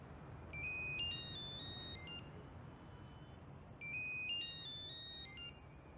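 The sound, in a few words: phone ringtone ringing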